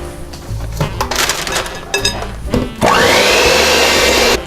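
An electric mixer blends egg into cookie dough for lemon rosemary cookies, starting with scattered clatter and short bursts, then running loudly and steadily for the last stretch, close by.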